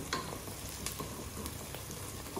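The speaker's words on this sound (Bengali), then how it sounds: "তো পেঁয়াজটাকে কি কষিয়ে নিচ্ছ না? ভেজে নিচ্ছি, ভেজে নিচ্ছি।" Onions fry in a pan, a soft continuous sizzle with occasional sharper crackles and stirring scrapes, fairly quiet and with no voices.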